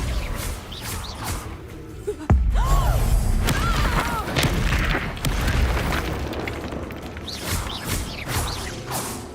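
Spell blasts from Bombarda and Confringo burst in a Hogwarts Legacy duel, starting with a sudden loud boom followed by crackling rumbles and whooshing magical effects, under nearby shouted spell incantations.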